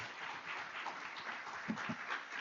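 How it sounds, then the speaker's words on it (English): An audience at a Veterans Day recognition event claps for the event founders, a steady patter of applause that is moderately distant and fairly even throughout. "Give another round of applause for our amazing founders"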